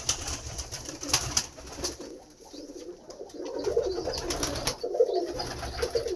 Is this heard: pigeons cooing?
yes